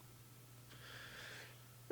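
A single sneeze in a quiet room during a podcast-style conversation, a short sharp burst rising and fading within about a second over a steady low electrical hum.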